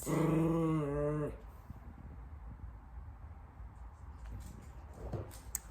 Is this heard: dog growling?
yes